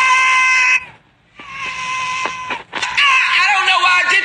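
A woman lets out loud, shrill, sustained screams in two long bursts split by a short pause, then a third rising cry, close and raw, imitating a scream of frustration.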